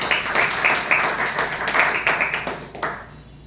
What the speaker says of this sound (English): With a big round of applause, let us call upon him.